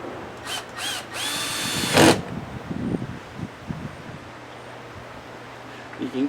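A cordless drill drives screws back in during a Ford Edge rear camera reinstallation, with a few short whirring bursts close by, followed by quieter handling clatter.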